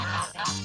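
A goose on a farm gives a short, close, nasal honk that dips briefly in the middle and then resumes.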